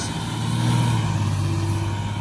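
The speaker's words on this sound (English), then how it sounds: "that's a loud bus." A loud bus with a noisy exhaust rumbles past nearby, its engine drone swelling to a peak and then easing off as it moves away.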